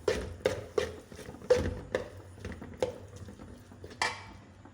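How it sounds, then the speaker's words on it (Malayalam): A spoon clanks repeatedly against a pan while ghee, jaggery and grated coconut are stirred together for a Kerala snack, giving sharp metallic knocks at an uneven rhythm, close and moderately loud, with no talking. "ഒന്ന് ഇളക്കി യോജിപ്പിക്കാം."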